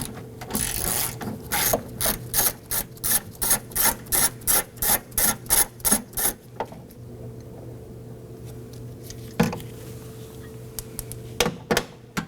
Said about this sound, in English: let's go ahead and use our 10mm socket and extension with our ratchet to loosen and remove